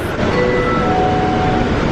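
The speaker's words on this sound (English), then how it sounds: "Please hold on. This train is stopping." Loud, steady rumble and rolling hum from inside the Atlanta airport terminal train as it runs between concourses, with a faint tonal whine above the drone and no talking.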